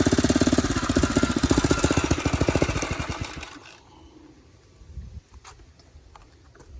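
A Phatmoto gas bike engine with a cheap carburetor runs loud and rough with rapid firing pulses, then bogs and drops off sharply to a low sputtering idle with a few faint bursts.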